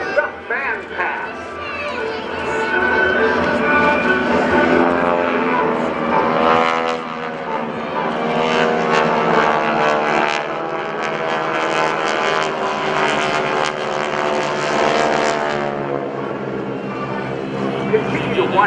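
GEICO Skytypers aircraft roar overhead in a formation fan pass at the 2011 Rhode Island Air National Guard open house airshow, a steady engine drone swelling and fading while an announcer talks over a loudspeaker throughout.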